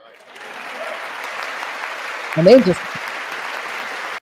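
A crowd at a Trump MAGA rally claps and cheers in a continuous wash of sound that swells briefly near the middle, and a voice says a few words over it.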